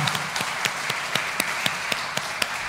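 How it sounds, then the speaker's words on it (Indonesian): A church congregation at a Sunday service applauds to welcome newcomers, steady rhythmic clapping with regular sharp beats throughout, loud and close. "mari kita tepuk tangan untuk menyambut kedatangan mereka"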